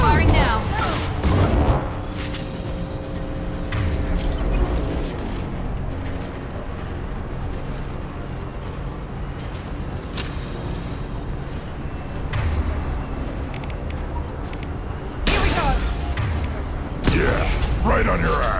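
Weapons firing in the video game Mass Effect 2, with loud booming impacts and bursts at the start and again near the end, a low mechanical rumble between them, and talk over the action.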